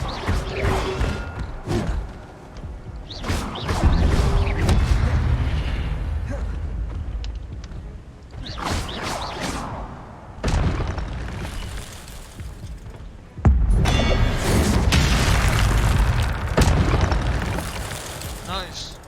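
Incendio fire spell cast repeatedly in Hogwarts Legacy, heavy whooshing booms and bursts of flame alongside loud game effects, with a voice talking over the action.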